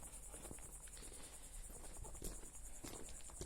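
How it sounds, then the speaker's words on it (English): Crickets chirp steadily and faintly at twilight beside a road, a dense continuous high trill, with light footsteps and rustling underneath. "the crickets are getting more loud"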